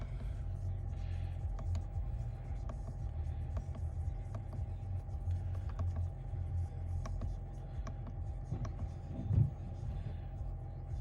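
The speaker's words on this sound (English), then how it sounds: "Just waiting for the vehicle to warm up" A Mercedes-Benz engine idles just after a cold start, giving a steady, low rumble that holds evenly throughout with a few faint knocks on top.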